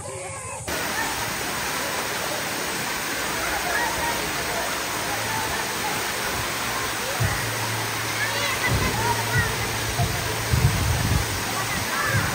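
Natural waterfall at a river, a steady broadband roar of falling water close by, with faint voices and low hums mixed in beneath.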